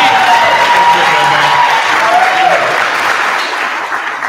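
A theater audience at a talent show final gives loud, sustained applause that fills the room and fades slightly toward the end, with a few voices heard faintly underneath.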